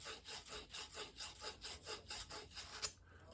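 Rhythmic back-and-forth rasping of a medium 180-grit Rothenberger abrasive strip wrapped around a copper pipe, about seven even strokes close up with no talking.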